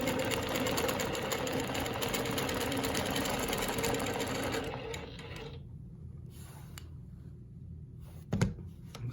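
A longarm quilting machine stitches a Baptist fan pattern guided by rulers, a rapid, steady mechanical whir for several seconds that then stops, leaving near quiet with a small bump near the end.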